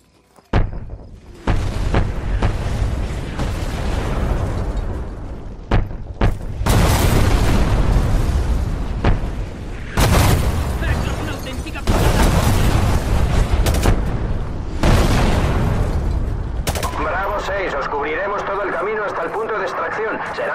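Artillery strike explosions in the shooter game Call of Duty Modern Warfare Remastered: repeated heavy booms and rumbling blasts, some close and loud, others trailing off, mixed with gunfire and bursts, with radio voices and speech over the barrage.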